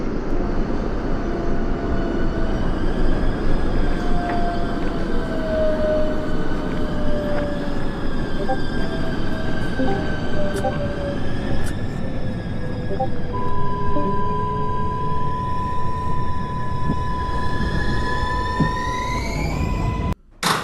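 A simulated NYC Subway R142A train on the 6 line to Brooklyn Bridge–City Hall in the OpenBVE train simulator game runs steadily with a loud, continuous rumble, rising motor whine and tonal hums, ending abruptly.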